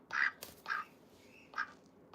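A pet duck quacks three times in short, bright, raspy bursts, evenly spaced and close by, with quiet room tone between the calls.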